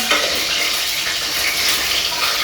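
Steady loud sizzling of potatoes frying in a pan, continuous crackle and hiss up close, with no talking.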